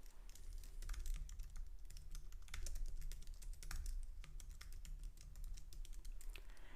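Quiet, steady computer keyboard typing while writing Swift code, a continuous run of soft, close key clicks with no talking.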